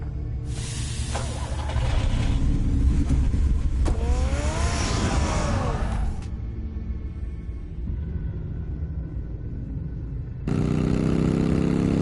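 A Batmobile in a Batman video game roars off, a loud broadband engine rumble and hiss with a rising whine, then easing to a steady drone before a fresh surge of revving near the end; no talk.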